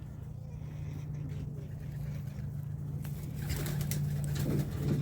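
A homing pigeon coos steadily over a low constant hum in the background, and a rustling, handling noise rises toward the end.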